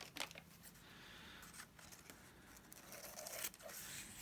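Paper is trimmed with scissors during a craft session making a wax paper resist background, faint snips and crinkly rustles in short bursts, close and quiet, with a louder handling sound at the end.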